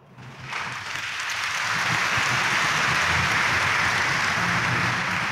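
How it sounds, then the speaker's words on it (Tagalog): A church congregation at a Quiapo Church Friday mass breaks into sustained applause, building quickly and holding as a dense, even roar of clapping from a large crowd. "pumalakpak nga po"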